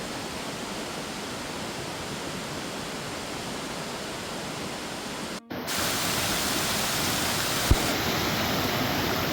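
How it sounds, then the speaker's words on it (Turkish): A steady, full roar of the Steall waterfall fills the whole clip, close and loud, with a brief dropout midway before the broad wash resumes. "Stil şelalesi."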